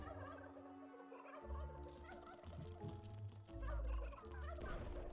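Gobbling, clucking poultry from the video game Dungeons 3 sounds over a dense looping game backdrop, with a heavy low thump near the middle.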